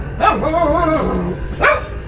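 Dog barking up close, a couple of sharp, loud barks with whiny tones in a backyard pigeon-keeping setting, standing alone with steady background noise.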